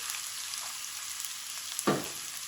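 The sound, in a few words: onions frying in a pan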